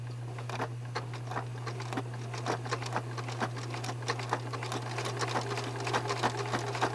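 Sewing machine stitching applique onto a quilt block, a rapid even needle patter over a steady motor hum, close and continuous.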